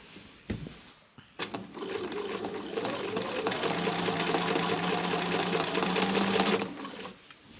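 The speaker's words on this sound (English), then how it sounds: "I just guide the quilt with the speed of the machine itself" A sewing machine fitted with a walking foot quilts triangles, starting with a couple of clicks and then running at a steady, moderate whir of rapid stitching for several seconds before stopping. It is close by and nobody is talking.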